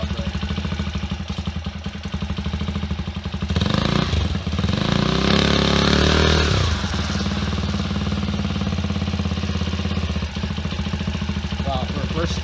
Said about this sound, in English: for a first start, she idled great.